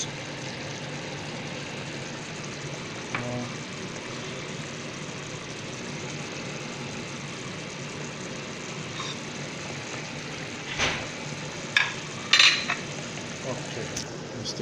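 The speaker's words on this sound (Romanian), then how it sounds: "Amestecăm și lăsăm să fiarbă." A pot of ghiveci, a Romanian vegetable stew like ratatouille with zucchini, simmering with a steady soft sizzle and bubble, while a spoon scrapes and stirs a few times toward the end.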